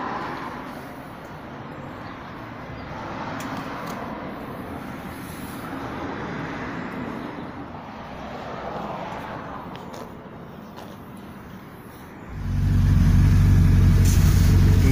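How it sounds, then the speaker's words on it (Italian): A Fiat 500 fitted with a Suzuki Hayabusa engine drives by as a muffled rumble with road noise that gently rises and falls, then swells into a loud, close low roar near the end. "questa invece è appunto la 500, che monta al suo interno il motore Hayabusa Suzuki. E andiamo a vedere come va."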